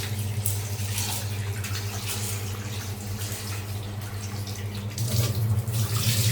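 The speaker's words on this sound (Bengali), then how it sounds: "তো ডাল ধুয়ে নেওয়া শেষ" Masoor lentils for village-style dal bhuna are rinsed under running water in a kitchen, a continuous close splashing rush that swells louder toward the end.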